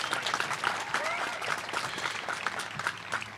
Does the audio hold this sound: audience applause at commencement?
yes